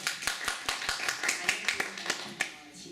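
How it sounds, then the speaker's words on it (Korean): A few people at an internship orientation give scattered, uneven claps, sharp individual hand strikes spaced apart rather than a full ovation. "박수 한번 주십시오."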